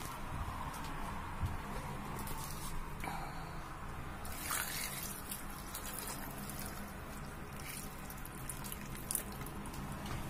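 Water from a tap pours over chicken gizzards in a pot, a faint, steady trickling and splashing with a few squishy drips, low in level and fairly close.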